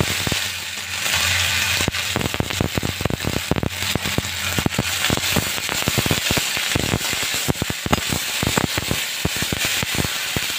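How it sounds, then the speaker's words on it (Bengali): Asafoetida and whole spices crackle and pop rapidly in hot oil, a dense, loud, continuous spattering with sharp bursts throughout, no voices. "তেল গরম হয়ে গেছে, দেবো একটু হিং আর ফোড়ন।"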